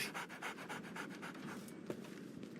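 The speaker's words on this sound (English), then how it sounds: "So, Barnes has a dog now." A dog pants rapidly in a video game, a quick rhythmic series of breathy huffs that are close but soft, then fade slightly toward the end.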